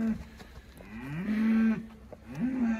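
Cattle moo loudly and close by during AI breeding season, with one long low call followed by the start of another.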